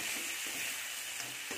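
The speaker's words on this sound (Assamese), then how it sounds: "আলু দি দিলোঁ, ধুনীয়াকৈ লৰাই দিলোঁ" Diced potatoes are stirred in a hot, oiled pan, giving a steady, close sizzle with soft scraping movements and no voices.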